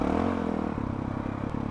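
A Honda CRF 450 RL dirt bike engine idling, a steady low burbling pulse held close and even, with no revving.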